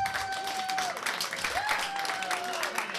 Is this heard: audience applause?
yes